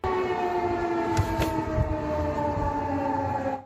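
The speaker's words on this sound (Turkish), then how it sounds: "Polonya'nın doğu sınırındaki yerleşim yerlerinde sirenlerin çaldığı görüldü" A steady, sustained air-raid siren wails at a fixed pitch in eastern Poland near the border, loud and continuous, with faint thumps beneath before it cuts off.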